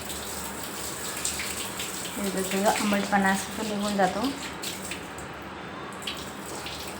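Cold tap water runs and splashes while freshly churned butter is rinsed at home during ghee making, with a person talking over the flow.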